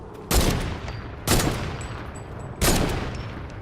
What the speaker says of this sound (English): this is a sniper rifle, so she should have a better rate of fire